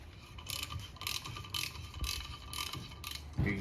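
Ratchet turning a knuckle stud on a Toyota Land Cruiser FJ80 to clean its threads, a series of evenly spaced clicking pawl bursts, close and moderately quiet, ending with a metallic clank.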